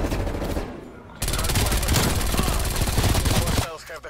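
Rapid, loud MAC-10 automatic fire in the video game Warzone rattles in dense bursts, with a brief pause before a longer sustained burst and a faint voice underneath.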